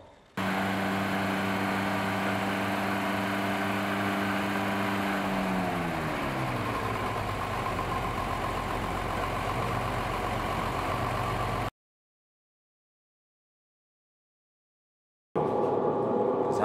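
A Mercedes W108 250S engine idles steadily during ignition timing adjustment, a continuous mid-low hum with a shift in tone partway through, then it cuts to silence before sound returns briefly at the end.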